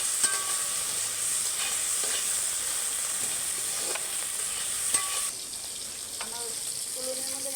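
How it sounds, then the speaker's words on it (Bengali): Prawns coated in salt and turmeric fry in a pan over a stove, a continuous bright sizzle with occasional clinks and stirring scrapes, close and fairly quiet. "অল্প করে ভেজে নেব।"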